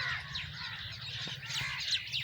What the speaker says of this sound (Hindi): परिंदों की चहचहाट है,